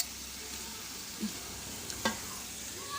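Mutton biryani masala for a large batch sizzles steadily in a pot over a rocket stove as tomatoes go in, with a couple of soft stirring knocks against the steady frying hiss.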